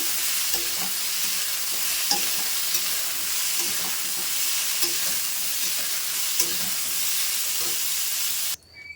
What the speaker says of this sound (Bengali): হালকা করে ব্রোকলিটা একটু লবণ হলুদ দিয়ে ফ্রাই করে নেবো